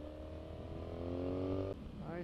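Honda CBR motorcycle engine holding a steady drone in second gear on twisty roads, a continuous, close harmonic hum that shifts briefly near the end as revs change.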